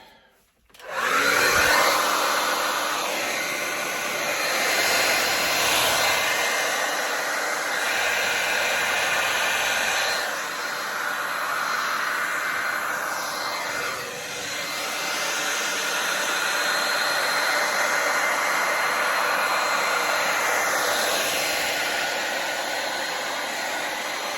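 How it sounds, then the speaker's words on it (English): A hair dryer blows continuously over fluid acrylic paint, a loud steady whoosh of air right up close that shifts a little in tone as it moves around. "Now to get the hair dryer."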